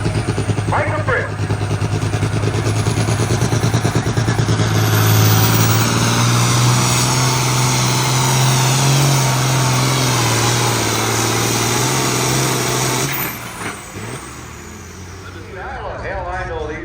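A Massey Ferguson 1155 tractor in a Light Limited Super Stock class at a tractor pull roars loud and steady for about thirteen seconds, its pitch slowly climbing, then cuts off; an announcer's voice carries over the engine.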